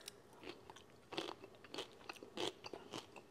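A crispy, cold cucumber gets bitten and chewed close up: a sharp crunch followed by a run of wet, crackling chews in an irregular rhythm, fairly quiet, with no talking.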